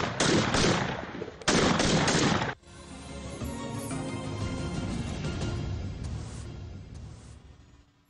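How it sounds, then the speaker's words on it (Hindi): Rapid live gunfire from a police weapons-training exercise on a range: two dense, loud bursts of automatic shots in the opening seconds, followed by a long reverberating echo that slowly fades, with no talking. "सिमुलेशन के बाद अब यहाँ लाइव यानी बराह रास्त फायरिंग ये करेंगे"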